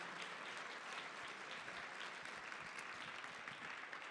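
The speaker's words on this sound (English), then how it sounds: "Give her a round of applause." Audience applause fills the room for Mrs. Wolf at an event honoring Rabbi Moshe Wolf, a steady, moderately quiet wash of many hands clapping for about four seconds without talk.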